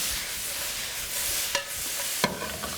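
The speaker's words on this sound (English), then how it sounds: "I'm going to take and introduce some of these snow peas now." Snow peas hitting a hot stir-fry pan with leftover chicken, giving a steady broad sizzle with a couple of sharp clanks of utensil against the pan partway through.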